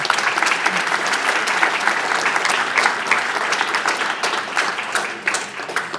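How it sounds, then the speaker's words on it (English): Sustained audience applause at a blockchain conference, dense and steady clapping from a large crowd filling the room for the full stretch, loud and unbroken with no voices over it. "Longest applause ever in this conference."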